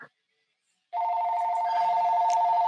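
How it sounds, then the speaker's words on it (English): A telephone begins ringing after a short silence, a steady electronic tone that is close and loud and holds for the rest of the moment with no talking over it. "And then the phone rings."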